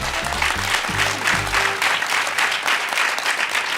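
A studio audience on a quiz show applauds with a steady, dense burst of clapping. A voice talks over the opening moments before the clapping carries on alone.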